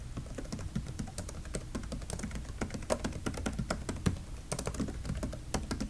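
Steady typing on a computer keyboard, a continuous run of crisp, closely spaced key clicks with occasional heavier taps, close and fairly quiet with no talking.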